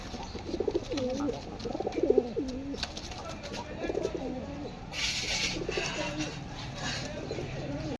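Pigeons coo repeatedly in soft, rolling calls close by, amid a low hum of background noise and a brief hiss.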